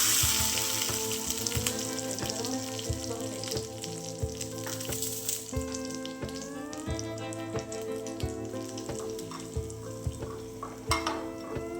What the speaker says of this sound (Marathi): छान असा तडका द्यायचा आपल्याला म्हणजे चटणीला चव छान येते